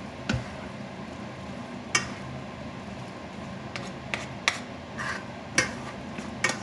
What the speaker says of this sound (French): je vais mélanger le tout et je vais laisser recuire